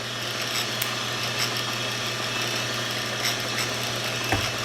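A copper wire stripping machine with a brand new blade runs steadily, cutting insulation off the wire in a continuous even mechanical whir with faint ticks.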